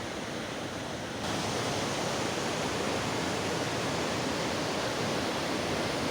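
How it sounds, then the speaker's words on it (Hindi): A waterfall flowing down from the Neelkanth mountain path, a loud, steady rushing roar of falling water that thickens after the first second and continues unbroken. "नीलकंठ पर्वत मार्ग से आता हुआ झरना अमृत जल"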